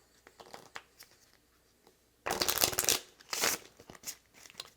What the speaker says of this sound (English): go ahead and shuffle up the Hogwarts deck